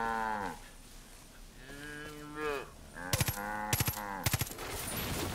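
Cattle in Far Cry 5 give several drawn-out moos, spaced a second or two apart, while sharp bursts of gunfire crack in quick clusters over the later mooing.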